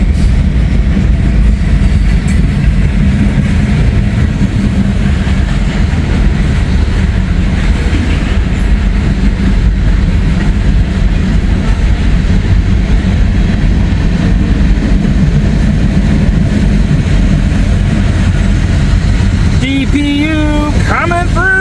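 A long freight train with a DPU rolls steadily past close by, a loud continuous rumble with rail clatter that keeps going the whole time and screeches toward the end.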